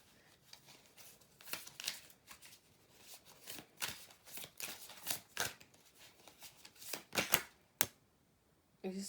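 Tarot cards being shuffled, a steady run of soft papery riffles and flicks, fairly quiet and close, with brief pauses between bursts and no talking.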